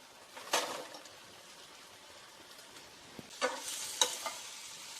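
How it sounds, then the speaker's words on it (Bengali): Fried chicken tips into a pan of sauce, making a soft background sizzle. Two short bursts of clatter and spattering come early and near the end, with no talking. "এরপরে আমি ফ্রাইড চিকেনটা ঢেলে দিচ্ছি।"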